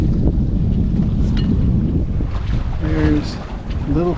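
Sailboat under way on open water south of Mount Desert Island, Maine, in fall: loud, steady wind buffeting and water rush across the whole span, with voices talking briefly near the end.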